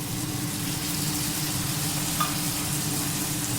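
A paneer dish with tomato sauce fries in a pan, giving a steady, close sizzle with soft stirring scrapes and one brief clink, alone without talk.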